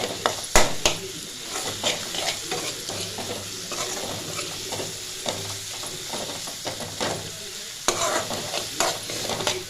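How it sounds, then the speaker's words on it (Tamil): Potatoes and chili powder fry in oil for a masala fry, with a steady close sizzle, repeated scraping stirs and occasional sharp clinks of a utensil against the pan, and no talking. "மிளகா பொடி வதங்கும் போது எண்ணெய் பிரிஞ்சு வரும்."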